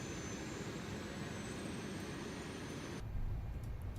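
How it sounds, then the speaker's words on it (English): Airbus A380X jet engines spooling up during start in Microsoft Flight Simulator 2024, a steady loud turbine roar and whine that changes tone about three seconds in as the rumble deepens. "So let's go ahead and start engine number 4. And we actually can start engine number 1 simultaneously."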